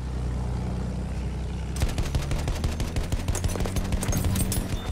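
An attack plane makes a strafing run in Battlefield 1, its guns opening up after a low rumble: rapid, loud, closely spaced shots rattle continuously for the last three seconds.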